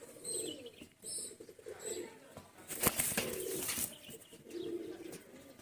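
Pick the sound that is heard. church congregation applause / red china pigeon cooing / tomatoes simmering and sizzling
red china pigeon cooing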